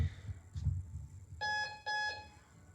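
A workout interval timer sounds two loud electronic beeps in quick succession after some low background shuffling during a cardio HIIT class, with no voices.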